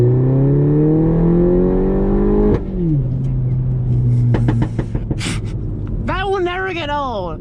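A 2018 Mini Cooper S engine revs hard up through the range, then drops off into a burst of sharp exhaust pops and crackles, followed by another rising rev; loud and close, with a voice reacting briefly.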